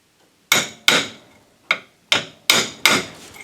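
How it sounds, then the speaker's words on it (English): A hammer strikes a metal piece to drive it out of a microwave oven transformer's core, six sharp, ringing blows with short decays at an irregular pace, close and loud with no talking. "Persuade means hit it with a hammer."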